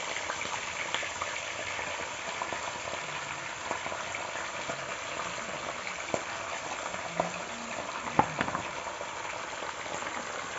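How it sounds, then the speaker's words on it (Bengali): Chicken fries in mustard oil in a pan, a soft steady sizzle and crackle with occasional small pops and a sharp clink, faint and continuous without voices. "এখন কষিয়ে দিব মুরগির মাংসটা"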